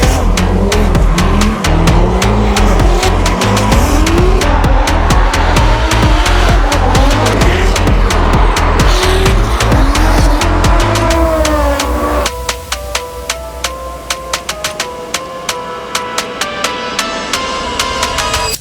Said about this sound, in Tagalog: manood tayo ng drifting